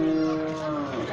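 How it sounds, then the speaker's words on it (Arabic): A beef cow at the Saturday livestock market in Abis, Alexandria, gives one drawn-out, fairly close moo against faint crowd murmur. "بقرة"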